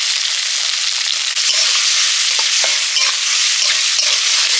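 Prawns sizzling loudly in hot oil as they are stirred in a pan, a dense, continuous hiss with occasional soft scraping clicks, close and steady throughout.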